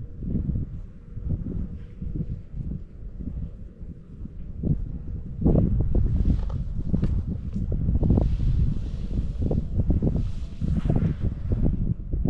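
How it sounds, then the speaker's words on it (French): Cold wind blows steadily across an open carp-fishing bank in winter, a continuous low rushing buffet on the microphone that swells louder in gusts during the second half. "il y a un vent assez froid"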